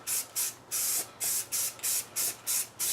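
Spray can applying self-etching primer to a new Cherokee bumper, a series of short hissing bursts in a quick, uneven rhythm, close and fairly soft with no talk.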